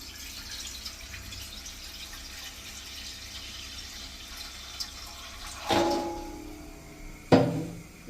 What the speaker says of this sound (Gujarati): ગેસ ચાલુ કરી એમાં આપણે પાણી નાખશું